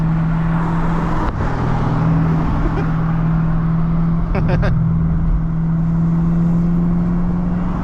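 A manual Camaro ZL1 with a supercharged engine cruises along, heard from inside the cabin as a steady, even engine drone with a constant low tone and a few short clicks partway through.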